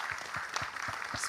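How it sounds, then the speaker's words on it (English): Brief applause from the audience at the inauguration of a Centre of Excellence for Entrepreneurship, a short burst of moderate clapping with a few distinct low thumps that lasts about a second. "Deserves a round of applause, everyone"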